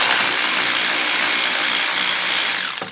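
A power tool whirs loudly and continuously for close to three seconds while removing screws from a car panel during a power steering motor replacement, then winds down and stops.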